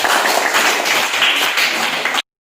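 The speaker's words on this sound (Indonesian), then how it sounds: "tepuk kasih aplaus buat Rifki" A classroom of students applauding a classmate, a brief burst of close, dense clapping that stops abruptly after about two seconds.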